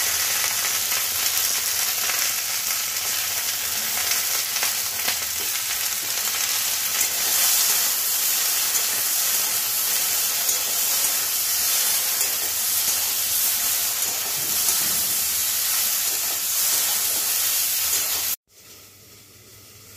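Okra with a little turmeric sizzles in a hot pan for a Bengali vegetarian dish: a steady, close frying hiss with faint stirring that runs without a break, then cuts out abruptly near the end.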